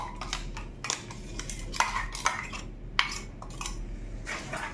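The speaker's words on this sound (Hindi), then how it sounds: "तो अच्छे से चलाती हूँ इसको," Ground masala paste of garlic, onion, chili, ginger and tomato being stirred in a pan, with irregular metallic scrapes and clinks of the spoon against the pan over a steady low background hum, close and moderately loud.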